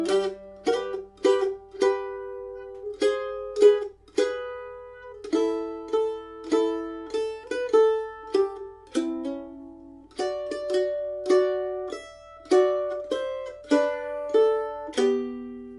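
A mandolin picks the Salty Dog Blues melody with double stops, bright plucked notes and two-note harmonies ringing in a steady, moderate rhythm, played alone and close.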